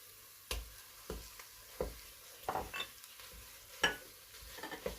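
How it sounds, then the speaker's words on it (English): Minced meat stirred in a pan with bean sprouts and oyster sauce, giving a low steady sizzle broken by repeated scraping stir strokes and a few light clinks of utensil on metal, close by. "it's time for me to add now the meat mince"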